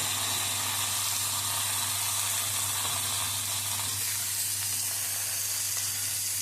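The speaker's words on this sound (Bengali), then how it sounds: "এখন আমি পরিমাণ মতো নুন দিয়ে আলু ফুলকপিটাকে ভালো মতন ভেজে নেব।" Potatoes and cauliflower fry with salt in a pan for a dhokar dalna, giving a steady, even sizzle with a faint low hum beneath. It stays close and constant throughout, with no talking.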